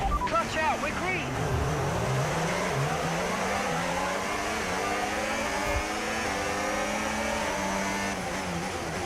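An F1 car launching off the line in the video game F1 25. The engine screams and climbs through rising gears with quick shifts, close and loud, and an engineer's voice comes in briefly at the start.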